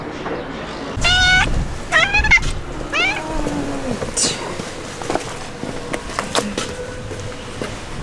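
A cat meows close by in a traditional house in Tunisia, giving several rising calls across the clip, with faint purring possible beneath and people talking nearby.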